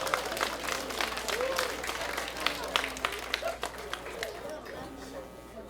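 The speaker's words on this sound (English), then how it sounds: "Please give her a big round of applause." Audience applause at a Cambodian community retirement dinner for a congressman in Long Beach, a fairly quiet, sustained patter of many hands with scattered louder claps and background chatter, easing off toward the end.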